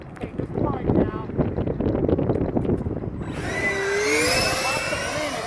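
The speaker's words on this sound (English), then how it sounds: "Lots of wind" Strong gusty wind buffets the microphone at an RC plane flying field on a very windy day, a steady loud roar with a whining electric motor tone rising near the end.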